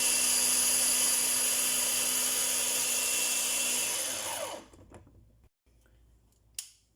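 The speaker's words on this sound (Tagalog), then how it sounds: "Pina-blender ko yung onions at saka garlic." A blender's loud, steady whirring motor grinds onions and garlic for several seconds, then cuts off abruptly, leaving a quiet room with a few faint clicks.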